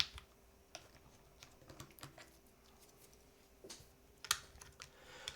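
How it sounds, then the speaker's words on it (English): Typing on a keyboard at a custom control panel build: light, irregular key clicks and taps at close range, quiet and alone, with a sharper cluster of clicks near the end. "This is an interesting keyboard."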